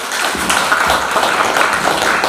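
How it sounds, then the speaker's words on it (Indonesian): Applause from an audience at an evening award ceremony honoring gold-medal-winning students in Toba, a dense, sustained clatter of many hands clapping at once, loud and continuous. "Tepuk tangan."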